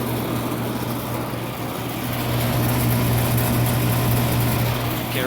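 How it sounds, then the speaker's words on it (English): A recently installed Goodman air conditioner unit runs with a loud fan motor, giving a steady, close whirring drone with a low hum throughout and no speech. "That one's got a really loud fan motor."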